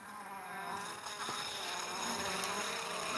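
Honeybees inside a jar make a steady, dense buzz that holds at an even level throughout, close and continuous with no talking.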